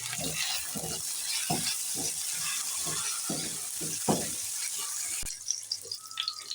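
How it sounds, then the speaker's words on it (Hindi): Dry fruits roasting in a pan for Eid seviyan, a gentle sizzle under a string of quick stirring scrapes and rattles, nearby, ending with a sharp click and a quieter clatter. "तो अभी इसमें हम अपने ड्राई फ्रूट्स जो है वो रोस्ट कर लेते हैं।"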